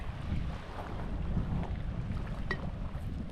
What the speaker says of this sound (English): Probably can't hear me too well because the wind's kind of pumping out here